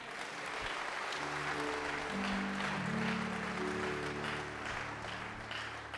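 A church congregation applauding at a sermon, dense sustained clapping from many hands with a held musical tone beneath, steady and fairly loud throughout.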